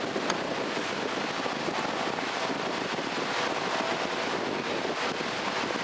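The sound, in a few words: water running while cleaning a softshell turtle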